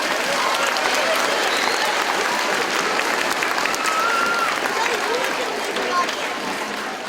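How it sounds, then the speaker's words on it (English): An audience's round of applause at a stewardship day event, dense sustained clapping from a large crowd that stays steady and loud throughout without pause. "Give yourselves a round of applause"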